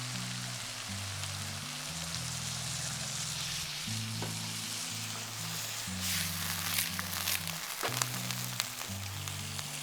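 Pork with wood ear mushrooms and dried lily flowers crackles in a hot wok as a little water goes in, a steady hiss over a low background of music.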